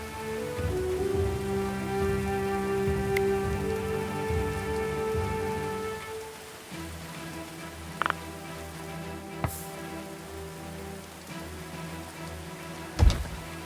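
Steady rain patters in the video game Going Medieval, layered with a droning musical tone that drops away midway, leaving a softer rain bed broken by a few sharp ticks and a brief louder hit near the end.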